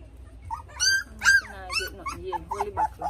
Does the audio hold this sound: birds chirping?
no